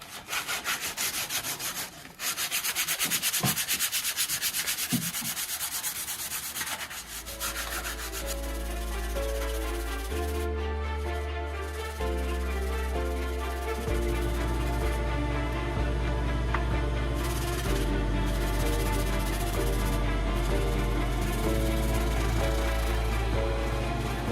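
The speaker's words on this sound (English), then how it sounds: "I'm gonna come in with a little bit of sandpaper and just take these little bitty Shinto rasp marks out." Sandpaper rubs the length of a wooden axe handle, a Brant & Cochran Maine half-wedge, to smooth away small rasp marks. The scratchy strokes run steadily and close up for the whole stretch, with no talking.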